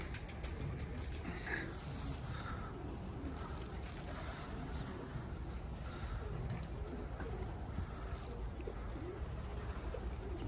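Soft pigeon coos repeat through a steady low rumble like an idling engine, with faint bird calls scattered across the whole stretch.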